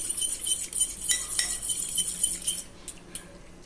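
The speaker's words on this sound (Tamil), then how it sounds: "இந்த ஷாம்புவோட இந்த 2 பொருள் வெந்தயம் அண்ட் ஆலோவேரா ஜெல் இது நல்லா மிக்ஸ் பண்ணிடுங்க" Shampoo being mixed with fenugreek and aloe vera gel in a bowl, light clinks and scrapes of a spoon against the bowl in quick close bursts that fade out toward the end.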